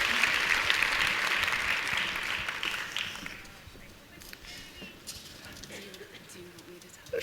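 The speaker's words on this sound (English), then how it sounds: "Let's give a round of applause" Audience at a keynote session of a business summit breaks into dense applause that is loud at first, then thins and fades to scattered claps over about four seconds, followed by quieter room sounds and some talking.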